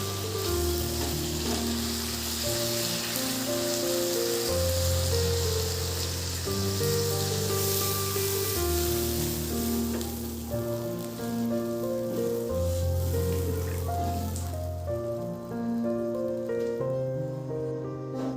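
Spiced Bengali potato curry sizzling steadily in a pan as water goes in, a continuous rain-like hiss heard under prominent background music throughout.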